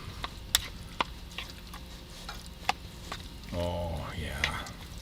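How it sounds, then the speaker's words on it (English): Stirring a pot of holiday blizzard chili topped with green onions, made while car camping in a blizzard: soft scraping and stirring swirls in for the last second and a half, after a few sharp clicks and light knocks. "I'm gonna mix all that up."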